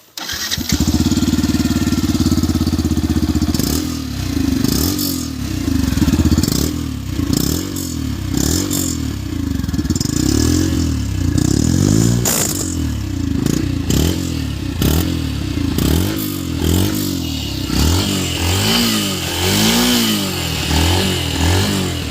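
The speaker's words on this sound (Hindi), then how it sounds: "मैं आपको अब इसका इंजन साउंड सुनाता हूँ।" A Yamaha FZS V3 motorcycle engine runs close and loud for over twenty seconds, idling with a steady rumble broken by repeated revs that rise and fall, with no talking.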